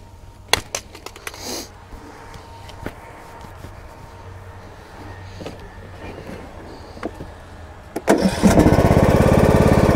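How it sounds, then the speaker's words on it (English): A John Deere E100 riding lawn mower sits quiet amid faint outdoor rustling and clicks, then its engine cranks and catches at about eight seconds, settling into a loud, steady close-up running drone. "I'm gonna go ahead and start the mower up here, let you hear how it sounds."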